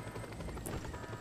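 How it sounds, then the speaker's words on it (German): A helicopter in the video game Just Cause 2 gives a steady, low rotor drone that runs without break through a short stretch at moderate level. "Oder wir nehmen uns einfach den Heli."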